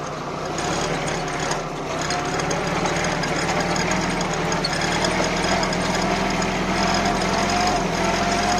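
A tractor engine runs steadily at close range while the tractor is driven downhill with its blade, a constant loud mechanical drone and rumble that holds throughout with no talk.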